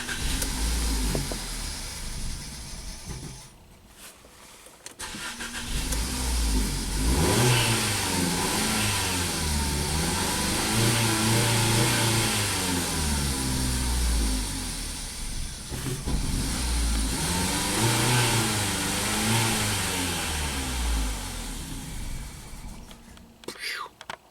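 A car engine runs rough after a transmission swap, cranking and catching with uneven revving, sputtering and backfiring, cutting out briefly twice before restarting, with quiet voices talking nearby.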